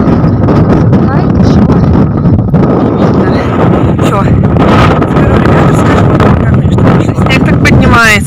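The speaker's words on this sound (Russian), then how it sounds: "такая пурга, вот честно" Blizzard wind gusts hard against the microphone while snow blows, a loud, rough roar rising and falling in buffets, with a voice briefly audible under it.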